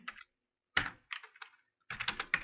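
Keys on a computer keyboard are typed in short close-up bursts separated by brief pauses, with no voices.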